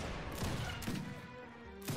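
Musket gunfire crackles in the Age of Empires 3 strategy video game, a few scattered volleys of sharp shots popping over a droning battle ambience, fairly faint and distant, with no talking.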